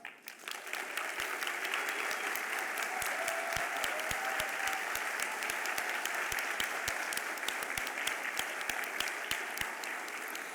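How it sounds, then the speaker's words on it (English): An audience at a School of Education pinning ceremony bursts into sustained applause, many hands clapping in a dense, even roar with a few distinct nearby claps standing out, lasting the full stretch without talk. "So it's great when your students are cheering for you, right? And hooting for you with such enthusiasm"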